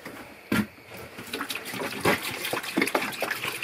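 Running water splashes and gushes steadily into an RV tank, with irregular sloshing bursts throughout.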